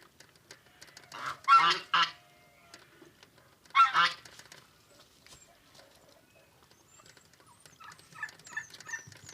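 Two loud honks from a white goose close by, each a short burst, followed by softer scattered cackling and bird calls in a quiet village setting.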